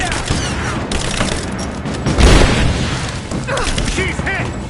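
A grenade explodes in Rise of the Tomb Raider, a heavy boom bursting out midway through a dense stretch of gunfire and combat noise, with voices calling out around it.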